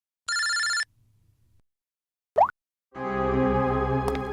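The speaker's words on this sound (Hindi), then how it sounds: "इनका फोन मत उठाओ तुम" A telephone rings in short electronic bursts separated by silence, with a quick rising blip in between and a longer ringtone at the end.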